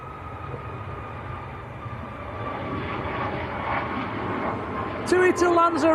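A TUI airliner departs Manchester Airport bound for Lanzarote, a low engine rumble building gradually, with faint chatter in the background and a brief burst of nearby sound at the end.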